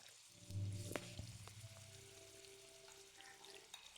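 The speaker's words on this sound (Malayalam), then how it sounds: "എണ്ണ ചൂടായതിന് ശേഷം നമ്മൾ നേരത്തെ മാറ്റി വെച്ച ചിക്കൻ ഇതിലേക്ക് ഇട്ട് കൊടുക്കാം. ഒരു 20 മിനിറ്റ് വരെ ഫ്രൈ ആയിക്കോട്ടെ." Chicken pieces dropped into hot oil for shawarma burst into a loud crackling sizzle, then settle into a steady, fainter frying hiss with scattered pops and clinks, close and without talk.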